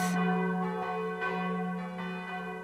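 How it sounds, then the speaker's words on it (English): Church bells ring out in rich, sustained tolls with a humming resonance, several strikes swelling and overlapping in a steady rhythm with no voices. "In the early morning, the church bells rang."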